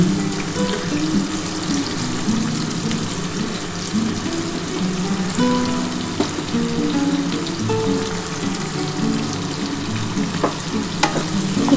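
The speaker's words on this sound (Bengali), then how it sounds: "পেঁয়াজটা একটু লাল লাল করে ভেজে নেব" Large onions fry in hot oil for mutton dak bungalow, a continuous steady sizzle with stirring and scraping noises running through, close and even in loudness.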